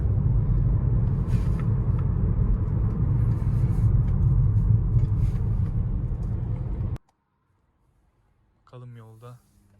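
A 2021 Audi A3 Sportback with a 1.0 TFSI 110 hp engine rolls over road bumps, producing a steady low rumble for about seven seconds. The rumble cuts off abruptly, and a voice speaks briefly near the end.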